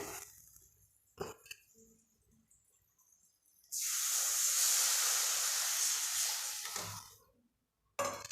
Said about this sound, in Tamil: இப்போ இதை மிக்ஸ் பண்ணிவிட்டு கையோடு இந்த புளியை எடுத்து ஊற்றிடுங்க.